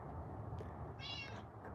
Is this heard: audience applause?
no